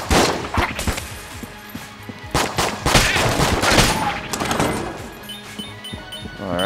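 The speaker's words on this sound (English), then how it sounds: "This guy's insane, they're shooting themselves." Gunfire in the Enter the Gungeon video game: dense, rapid shots and bursts layered with impacts and crashes, loud and continuous, with no speech.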